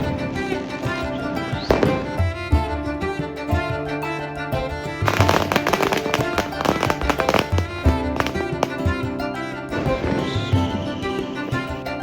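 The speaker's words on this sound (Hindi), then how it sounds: "अगर आप छत पर खड़े हो जाओ तो आपको अलग अलग डायरेक्शन से अलग अलग तरीके के पटाखे आते हुए दिखेंगे" Diwali firecrackers and fireworks burst overhead from several directions, heard from a rooftop as a dense, loud run of cracks, pops and booming bangs with no talking.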